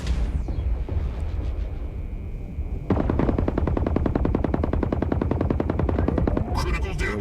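Mech weapons in the Mech Arena video game open up in long rapid automatic bursts, with dense rattling fire after a quieter opening stretch, loud and continuous to the end.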